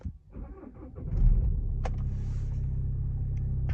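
A Skoda Octavia A7 that has stood for two days is started from inside the cabin. There is a short starter crank, then the engine catches and settles into a steady, low idle rumble.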